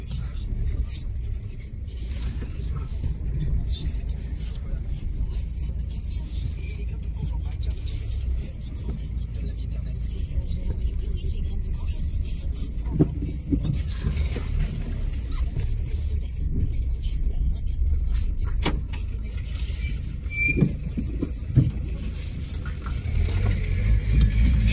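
A diesel car on a test drive after a repair, its engine running steadily with a mid-range drone and road rumble throughout, rising slightly at moments as it accelerates, close and continuous under scattered talk.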